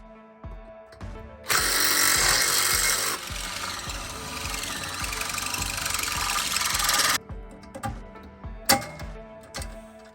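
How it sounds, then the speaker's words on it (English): A power drill bores holes into wood in a long, loud continuous burst, then stops, followed by a few short knocks and rattles. "I finished drilling my holes."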